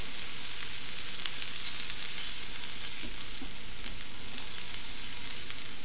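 Shallots sizzle and fry steadily in plenty of butter in a pan over a lowered flame, a continuous close crackle with occasional sharper pops and no voices.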